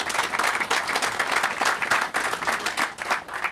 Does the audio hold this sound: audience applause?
yes